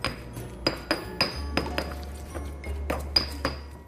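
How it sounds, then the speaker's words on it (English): Garlic curry paste is stirred and pounded in a bowl, giving a series of sharp clinks and knocks in an uneven rhythm, close and fairly crisp, over a faint low hum. "we mix it all up, and as you can see, the paste is forming"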